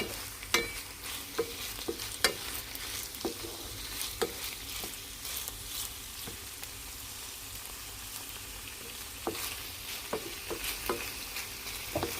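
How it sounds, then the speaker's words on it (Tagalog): A chicken dish frying in a pan is stirred well, a dense continuous sizzle punctuated by regular sharp scrapes and taps of the utensil against the pan, close and fairly loud. "Haluin lang natin ng mabuti."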